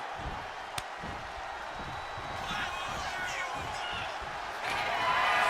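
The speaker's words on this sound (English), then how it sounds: "CM Punk rallying the crowd behind him." In the WWE 2K26 wrestling video game, an arena crowd roars steadily in the background as CM Punk rallies them, a broad continuous cheer that builds toward the end, with a single sharp thud early on.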